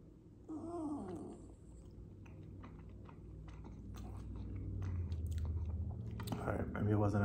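Chewing and biting into a birria eggroll during a taste test after mention of Carolina Reaper and ghost pepper heat, close-up mouth sounds with a crunch and sigh-like breaths over low background murmur.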